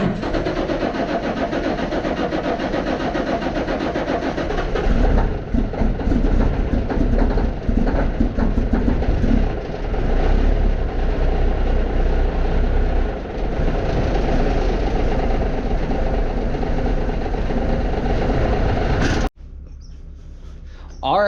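Truck engine cranking over and settling into a steady idle, a loud, rumbling low drone that runs throughout, with a brief cutoff near the end.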